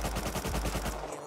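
Rapid automatic gunfire in a video game, a quick burst of about eight sharp shots in under a second that ends abruptly.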